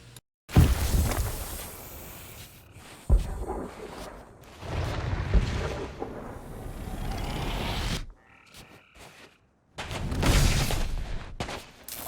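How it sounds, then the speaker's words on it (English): Distant cannon fire in the pirate video game Sea of Thieves: a series of muffled booms arriving in irregular bursts, each rumbling out before a short silence, with no talk over them. "distant cannon fire sounds like this."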